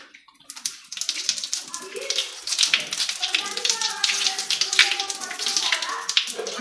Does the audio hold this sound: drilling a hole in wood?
no